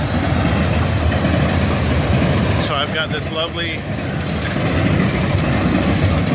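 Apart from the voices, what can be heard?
freight train passing on tracks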